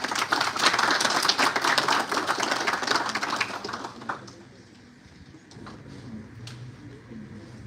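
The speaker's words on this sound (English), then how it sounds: "Sir, please give a huge round of applause," Students at Paher University applauding to welcome the convener: a loud, dense burst of many hands clapping that fills the first four seconds, then thins out into a few scattered claps and quiet room sound.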